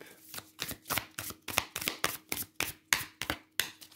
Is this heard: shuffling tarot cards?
yes